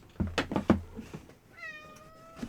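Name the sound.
cat meowing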